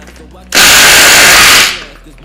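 A Ryobi cordless power tool, likely an impact driver, turns a socket in a car repair shop with a loud, rapid rattling burst lasting about a second, close up and then winding down.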